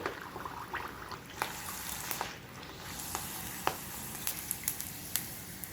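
Sago papad sizzles and crackles in hot oil, a steady frying hiss with scattered sharp pops, close and alone without talk.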